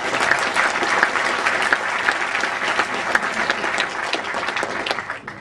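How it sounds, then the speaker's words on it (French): A crowd applauding steadily at the awards ceremony of the Strasbourg European Fantastic Film Festival, dense clapping that stays loud and even throughout before easing off at the very end. "on les applaudit s'il vous plaît"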